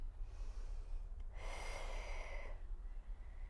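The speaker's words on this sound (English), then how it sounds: "Breathing out, stretch." A single audible exhale during a stretching exercise, a breathy rush of air lasting about a second over a low background hum.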